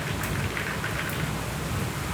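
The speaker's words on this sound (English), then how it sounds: "Rain is a little pretty fun." Steady rain falling outdoors, an even patter of drops heard alone at moderate loudness throughout, with no voices.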